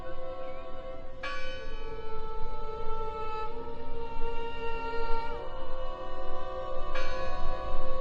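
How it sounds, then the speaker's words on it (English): Church-like bell tolling in the video game Draugen, several sustained ringing strikes with long overlapping decays, loud and steady throughout. "Listen! The bell!"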